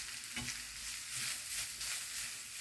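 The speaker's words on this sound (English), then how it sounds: "I will do the onions, fry the onions and that" Onions fry in a pot for a one-pot spaghetti bolognese, giving a steady, soft sizzle with faint stirring scrapes throughout, fairly quiet and close, with no talking.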